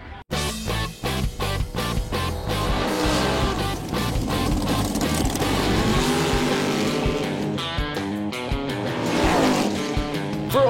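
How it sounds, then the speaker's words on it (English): Drag racing cars in Northern BC roar off the line, loud engines revving and accelerating hard in sharp pulsing bursts, with crowd and track noise throughout. "Just drag racing."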